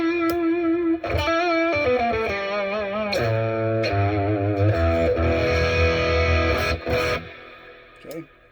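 Electric guitar through Seymour Duncan Jupiter humbuckers wired in series, strummed chords and picked notes with distortion and effects, loud and sustained, with several pauses between phrases and a short decay at the end.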